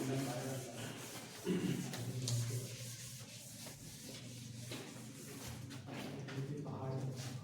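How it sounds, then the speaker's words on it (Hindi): Writing is rubbed off a classroom board during a trigonometry lesson, with repeated scratchy, brushing strokes close by while someone talks over them. "ये यहाँ से मैं इसको अभी रब कर देती हूँ"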